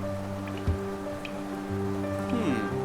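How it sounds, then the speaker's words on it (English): Rain patters on glass in the Hollow Knight video game, soft steady drips and light taps under a sustained tonal music drone, faint and continuous with no talk. "I so love the sound of the rain upon glass"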